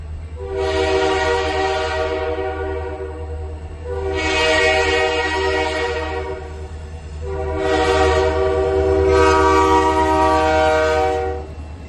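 A Nathan K3L air horn on a GP40-2 diesel locomotive, St. Lawrence & Atlantic 3004, sounds three loud, sustained chord blasts separated by short pauses over a steady engine rumble.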